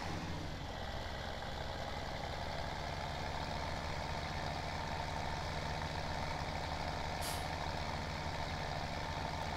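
Farming Simulator 17 tractor engine in a game, a steady low drone with a constant grinding mechanical texture that holds evenly throughout, with one brief high chirp near the end.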